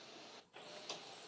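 A $1,300 large-format printer runs in a steady mechanical whir and buzz, close and continuous, with a brief pause partway through and a small clatter near the end.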